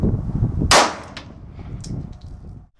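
A single loud, sharp gunshot from a 9mm Beretta 92 pistol cracks close by, followed by a trailing echo and a faint metallic clink as it fades.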